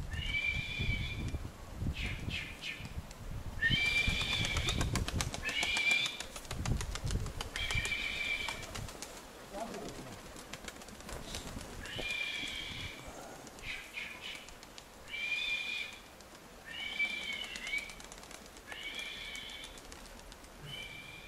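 A flock of pigeons at a pigeon fanciers' lofts in Sirotino and Borovskoye takes to the air, a dozen or so repeated whistling, fluttering bursts of wings coming and going over a quiet outdoor background.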